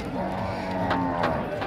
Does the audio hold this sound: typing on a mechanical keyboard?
no